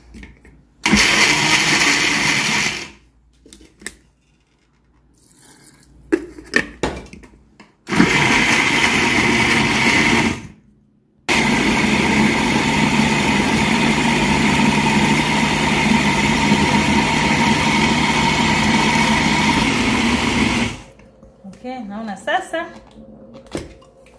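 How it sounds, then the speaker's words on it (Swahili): An electric blender grinds tamarind, chili, onion, ginger and garlic with a little water into chutney. It runs in loud, steady bursts broken by short pauses, with a faint voice in the gaps. "alafu nitasaga hizi."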